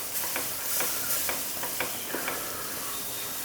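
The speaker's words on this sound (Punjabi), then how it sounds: "ਥੋੜਾ ਕੁ ਪਹਿਲਾਂ ਦੁੱਧ ਥੋੜਾ ਕੁ ਪਾ ਕੇ ਇਸ ਨੂੰ ਹਲਾ ਲਾਂਗੇ ਤਾਂ ਕਿ ਇਸ ਦੇ ਵਿੱਚ ਕੋਈ ਡਲੇ ਨਾ ਰਹਿ ਜਾਵੇ" Besan and milk being stirred in a pan for sheera, a spoon or ladle scraping in a steady series of soft strokes over a light sizzle, close and alone.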